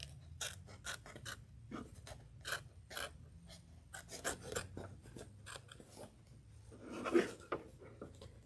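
Scissors trimming a circle out of fabric at a sewing table, a string of quick crisp snips and rasping cuts close by, irregular in rhythm, with faint handling noise between them and no talking.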